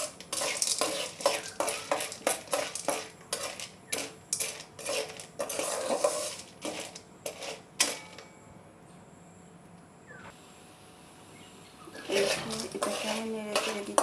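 Popcorn kernels stirred in mustard oil in a pan, with repeated metallic scrapes and clinks of a utensil against the pan in an irregular rhythm, a quieter bubbling stretch in the middle, then more scraping.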